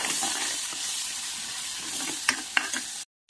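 Masala spices mixed with a little water fry and sizzle in oil for a gram-flour potato curry, a steady close hiss with a few stirring scrapes near the end before the sound cuts off.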